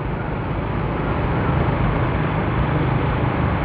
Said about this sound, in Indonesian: Jadi semakin kencang kita menekan gas, semakin kencang juga suara anginnya.